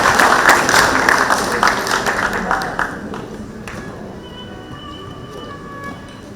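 An audience applauds at a ceremony honouring a gold medal recipient, dense clapping that fades away over a few seconds into quiet room noise.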